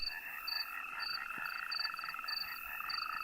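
Natterjack toads call together in a continuous rattling chorus, with sharper chirping calls pulsing repeatedly over a steady trill, moderately faint and with no talk.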